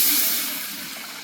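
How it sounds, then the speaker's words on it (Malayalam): Water pours into a cooking pot holding Dalda fat and masala for chicken dum biryani rice, a short hissing rush that fades slightly as it goes, heard alone. "വെള്ളം ഒഴിച്ചു കൊടുക്കാം."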